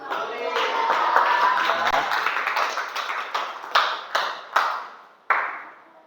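Classroom students clap together in a dense burst of applause that thins into a few separate claps and trails off, with some voices mixed in.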